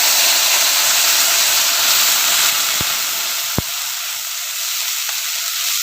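Water poured into a hot pan for a rohu fish curry sets off a loud, continuous sizzle and steamy hiss, fading slightly, with a couple of sharp clicks partway through.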